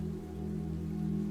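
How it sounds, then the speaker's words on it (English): Steady, soft rain falls without pause on a quiet Brighton night, an even continuous hiss under a low, constant hum with no voices. "The rain fills your ears,"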